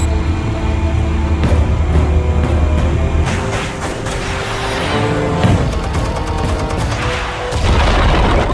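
Explosives go off in a Batman: The Telltale Series scene as a dense, loud series of booming blasts and crashing debris, with rumbling impacts layered over a steady background.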